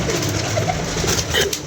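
Pigeons kept by a pigeon fancier cooing softly and repeatedly over a constant background hum, with no talking.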